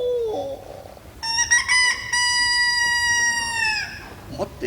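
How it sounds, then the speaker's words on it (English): A single rooster crow rings out at a kabuki theatre performance. It is one long, sustained, clearly pitched call that holds steady and then cuts off, with quiet stage background before and after. "How strange to hear a cockerel's cry"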